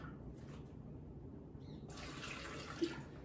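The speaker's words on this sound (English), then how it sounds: "And then I'm going to add some coconut water." Coconut water poured into a container: a soft, steady splashing stream of liquid that starts partway through and keeps going, fairly quiet and close, with no talking.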